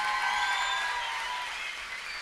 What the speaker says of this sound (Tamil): எல்லாரும் சேர்ந்து ஒரு கரகோஷம் அவருக்கு கண்டிப்பாக கொடுக்கணும்னு நான் நினைக்கிறேன்